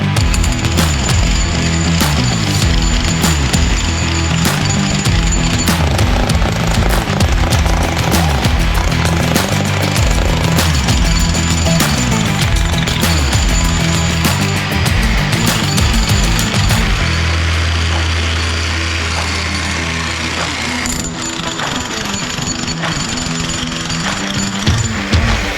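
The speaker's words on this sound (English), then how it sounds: "We're gonna have one on the jackhammer, one cleaning." A demolition jackhammer breaking up a massive concrete block in a shop, a loud, continuous close-up pounding rattle that runs almost the whole time, easing slightly near the end, with no talk.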